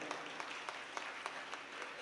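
An audience claps along at a devotional sermon gathering, a faint, thin patter of hands with slightly periodic bursts, heard from a distance and fairly soft.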